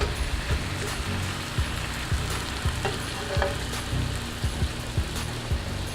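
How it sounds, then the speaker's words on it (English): Pollo saltado fries in a hot pan with a steady, dense sizzle, while the spatula clacks against the metal at a regular pace as the chicken is stirred. "you want to keep moving it around, stirring it, making sure everybody is getting cooked"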